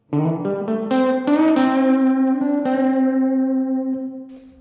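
A sustained guitar chord played through a Donner Verb Square reverb pedal with the decay turned up rings out, swelling through a few strummed changes, then lingers with a long, smooth reverb tail that slowly fades away.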